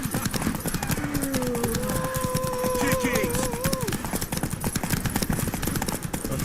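Steady rhythmic hoofbeats of a galloping horse in the video game The Witcher 3, with a brief whinny-like wavering tone and voices talking over the pounding.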